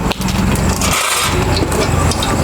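Nigella seeds tempering in hot oil for a fish curry give a dense, continuous sizzling crackle, close and fairly loud across a brief stretch.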